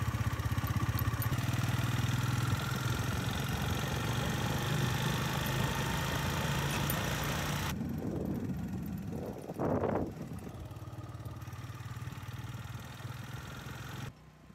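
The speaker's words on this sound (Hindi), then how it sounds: "अब पकड़ते हैं बाइक और निकलते हैं इंशाल्लाह घर को।" A motorcycle engine runs steadily close by with a low, constant hum as the rider gets ready to set off, shifting in tone about halfway through, with light wind noise and no talk.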